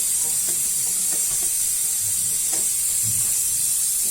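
Pakoras sizzle and hiss steadily in hot frying oil as they are lifted out, a continuous bright crackle with a few soft scrapes and stirring knocks underneath, no voices.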